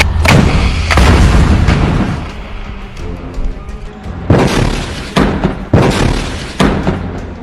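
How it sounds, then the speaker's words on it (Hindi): Heavy booming blasts from an anti-tank rocket striking an Israeli Merkava tank in combat, several loud explosive thuds with rumbling tails, spaced irregularly across the stretch. "जिसकी वजह से इस टैंक में जोरदार ब्लास्ट होता है"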